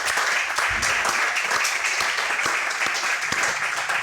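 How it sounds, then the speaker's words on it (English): Applause from a live event audience, a dense, steady wash of many hands clapping at close range and holding at an even level throughout. "I think we all owe you a round of applause for doing the good work you're doing."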